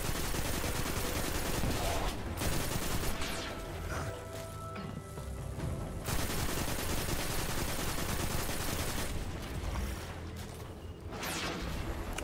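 A laser attacker's gunfire rattles through a Destiny 2 firefight in loud, steady volleys with crashing impacts, broken by a few brief lulls.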